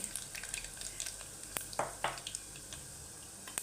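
Urad dal and mustard seeds sizzle and crackle in hot oil in a pan, a soft steady frying hiss with a few sharper pops and stirring scrapes, close and fairly quiet.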